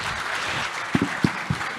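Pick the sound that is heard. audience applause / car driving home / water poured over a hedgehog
audience applause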